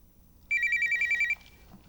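A telephone bell trills in one short rapid burst against a quiet room, then falls silent.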